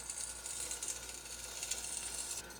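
Rapid ratchet clicking continues steadily while a tool is tightened during work on 3-inch aluminum tubing with .060 wall, close and constant for the whole stretch.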